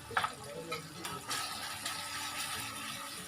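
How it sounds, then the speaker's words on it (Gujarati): Spices and grated chillies with tomato frying in a pan, a steady soft sizzle with faint stirring scrapes running the whole time, fairly quiet and close. "એને આપણે તળાવવા દેવાના"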